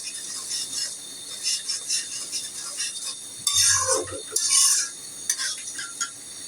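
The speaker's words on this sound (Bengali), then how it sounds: "এখন আমি নাড়া দিয়ে দিব।" Ground coriander, turmeric and dried chili powder are stirred in a cooking pan, giving intermittent scraping strokes of a spoon against metal in irregular bursts, fairly close.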